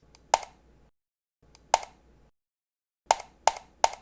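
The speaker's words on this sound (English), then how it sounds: "That sound was the sound of somebody clicking a mouse button" A computer mouse button is clicked in short, crisp snaps: one, then another, then three quick clicks in a row, each close and alone against silence.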